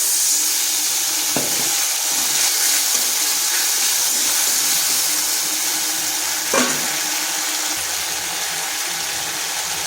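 Steady frying sizzle of potato and pointed gourd in a pan as a little water goes in, the hiss flaring briefly twice over a constant bright crackle, close and alone with no talk.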